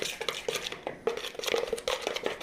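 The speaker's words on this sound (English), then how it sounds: "And you go ahead and mix all that up." A spoon mixes lime juice with other ingredients in a bowl for chickpea bites, scraping and clinking against the sides in a steady irregular rhythm, close and fairly loud, with no talking.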